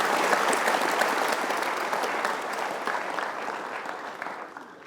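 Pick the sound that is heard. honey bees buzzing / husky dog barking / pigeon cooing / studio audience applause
studio audience applause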